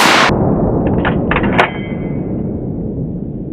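A rifle firing during target shooting on open crown land, one sharp loud report at the start followed by a few fainter metallic clinks and a ringing decay.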